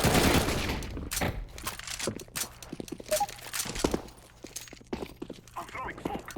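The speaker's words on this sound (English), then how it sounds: "Couple of AKs at the same time." Several AK rifles firing together in Counter-Strike, sharp overlapping shots and bursts scattered across a busy match, mixed with footsteps and game noise while a voice talks over it.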